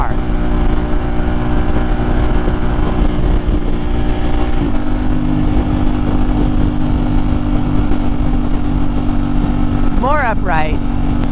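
KTM 890 Duke R motorcycle riding on a road, a steady loud engine drone with a shift in pitch partway through, with wind noise throughout and someone talking over the ride.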